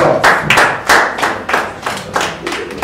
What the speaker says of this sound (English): Give round of applause.